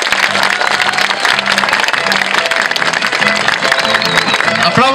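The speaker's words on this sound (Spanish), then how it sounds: "¿Usted cree que le podemos dar un aplauso a Gerardo?" Applause from a live audience at a show featuring a Mexican spinning-top expert, a dense steady patter of clapping with a low musical hum underneath, sustained at even loudness throughout.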